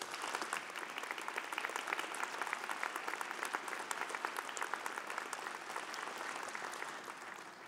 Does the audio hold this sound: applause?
yes